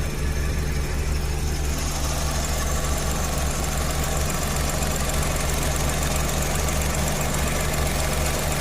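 A car engine idles steadily with a low, even rumble and faint knocking throughout, loud and close, with no voices.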